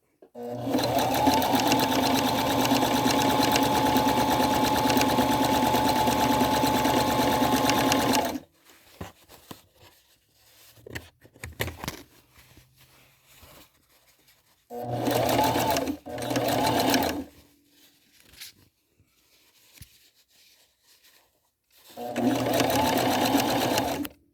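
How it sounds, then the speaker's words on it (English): A sewing machine stitches a flat felled seam in close, steady runs: a long continuous whirring stretch, then pauses with quiet handling noise and faint talk, followed by shorter bursts of stitching. "And we're going to stitch it."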